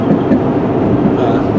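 A small empty enclosed trailer rattles and bounces on its hitch behind a GMC 6000 truck on the highway. It makes a steady, dense road rumble with loose knocking that runs without a break the whole time.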